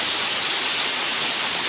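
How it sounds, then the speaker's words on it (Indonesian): Heavy rain pours down steadily at Kedabuan on a steep mountain road, a dense, even hiss with no pauses and no voices. "Hujan lebat di Kedabuan."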